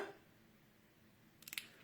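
Scissors snip card while shaping a pointed edge on a handmade greeting card, a quick cluster of three or four faint close clicks after a quiet pause.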